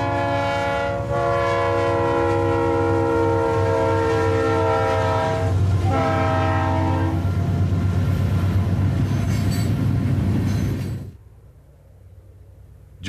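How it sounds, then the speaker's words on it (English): A Union Pacific freight train rolls through a curve in Topeka, Kansas, its horn sounding loud and sustained in long blasts over the steady rumble of passing cars, then cutting off abruptly near the end. "This curve in Topeka is a great place to just sit and watch as train after train passes through"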